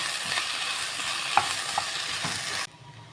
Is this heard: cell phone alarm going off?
no